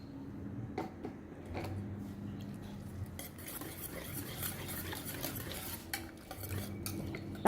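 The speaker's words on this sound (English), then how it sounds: "Then we will add our fruits and we will give a mix" Spoon stirring dried fruits into a thick eggless Christmas cake batter in a bowl, with continuous scraping and light knocks against the bowl, close and steady, without talk.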